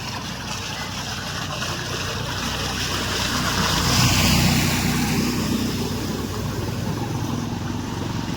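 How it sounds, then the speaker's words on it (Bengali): Floodwater surges and splashes as a vehicle engine drones past on a flooded road after very heavy rain, swelling louder midway then easing, a continuous rushing wash with no talking. "কি ঢেউ! এ তো লঞ্চের মতো ঢেউ হয়ে গেল"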